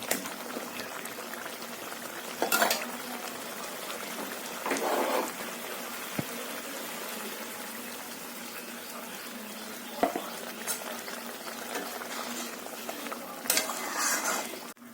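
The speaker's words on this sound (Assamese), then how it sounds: "ইয়াতে মই এবাৰ গৰম পানী দি দিলোঁ, দি লৰাই দিলোঁ।" Curry simmers in a pot with freshly added hot water while a spoon stirs it now and then, making soft bubbling and a few louder scraping and clinking bursts, fairly quiet overall.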